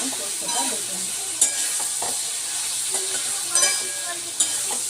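Potatoes frying in a pan give a bright, continuous close sizzle, with a few sharp scrapes and clinks from stirring and no voices.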